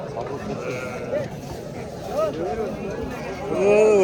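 Sheep and young lambs bleat repeatedly at close range on a farm, several wavering calls overlapping, the loudest near the end, over a steady murmur of background voices.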